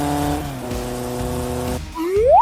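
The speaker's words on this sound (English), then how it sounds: "This is a motorcycle." A motorcycle engine drones with a steady harmonic hum, then quickly rises in a sharp revving sweep as it accelerates, loud and close with no talk.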